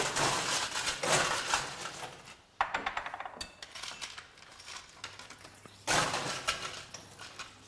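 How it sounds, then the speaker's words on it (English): Ice cubes clatter and tumble into a glass while a summer drink is built at a bar training demo, with bursts of sharp clinks in several quick pours and no talk. "So we're gonna add some ice now."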